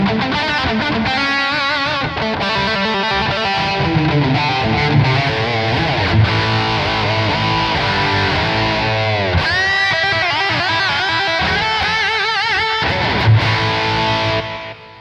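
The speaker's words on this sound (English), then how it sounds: "let's add, for example, Tube Screamer. And let's add some kind of reverb." Electric guitar through a modeled amp with Tube Screamer overdrive plays sustained chords and lead lines, washed in reverb and stereo delay, loud and continuous with no talking.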